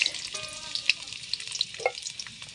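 Onions and garlic fry in hot oil in a wok, crackling and sizzling with sharp pops and spatters over a short, close stretch, no speech.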